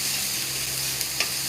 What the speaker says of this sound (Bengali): আলু ভালোভাবে কষিয়ে দেবো, যাতে আদা রসুনের কাঁচা গন্ধটা চলে যায়